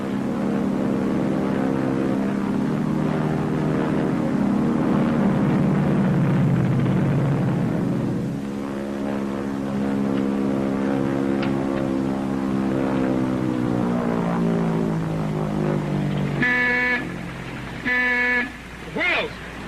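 A propeller airplane drones steadily as it comes in to land at a field, its engine pitch gradually shifting, followed by a few short horn-like blasts near the end.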